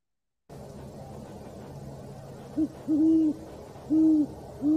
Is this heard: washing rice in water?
no